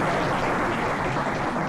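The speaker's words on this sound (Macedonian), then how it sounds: "Аплауз за Црнагора." Live comedy show audience applauding, a continuous dense wash of clapping from a full crowd, loud and steady throughout the short stretch.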